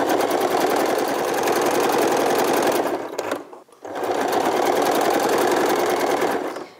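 Sewing machine stitching the third side of a two-pleat AFNOR fabric mask, a loud close rapid whir that stops briefly, then restarts and runs on steadily.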